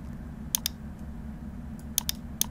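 A few sharp clicks from a computer keyboard and mouse, in two or three small clusters over a quiet room hum, faint and close.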